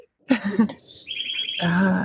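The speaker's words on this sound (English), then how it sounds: "I hear the birds." Birds chirp and call outdoors in brief bright bursts, a short run of tweets in the middle with voices before and after.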